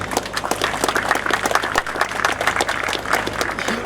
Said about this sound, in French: je vous demande d'applaudir pour cette initiative combien louable